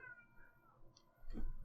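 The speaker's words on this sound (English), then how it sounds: "There's a fucking cat fight happening outside." Cats fighting outside let out a faint drawn-out yowl, followed by a louder, harsher burst of caterwauling at a distance.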